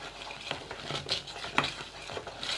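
A spoon stirring butter as it melts in a pot for homemade Nestlé-style caramel, producing soft repeated scraping and light clinks against the pot at a steady, unhurried rhythm, close and fairly quiet, with no talk.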